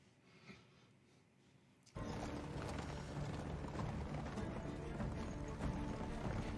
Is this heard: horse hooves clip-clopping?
yes